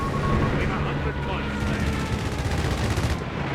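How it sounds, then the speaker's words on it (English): Loud, dense machine gun fire and explosions roll on without pause in a Company of Heroes 3 battle, under a commentator's excited voice. "Being caught with machine gun."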